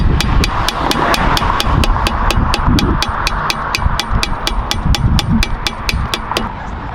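Hammer striking metal on heavy machinery, about twenty sharp, evenly spaced blows ringing out in a steady rhythm, loud and close over a low rumbling background.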